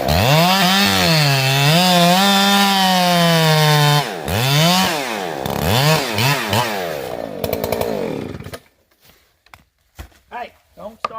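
A chainsaw with a short chain and badly worn depth-gauge drags, used at a timber cutting class, roars loudly up close, its engine pitch swinging up and down through several revs before it cuts out, leaving scattered short bursts of sound.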